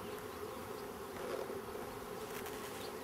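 A dense swarm of honeybees drones steadily around a beekeeper in gloves, a continuous close, loud buzzing that fills the whole moment with no voices.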